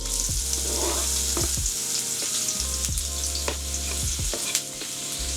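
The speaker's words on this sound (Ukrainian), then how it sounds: "Цибулька, часничок там шкварчать" Onion and garlic sizzling in melted butter in a frying pan, a steady crackling hiss with intermittent sharper pops and stirring scrapes, close and moderately loud with no talking.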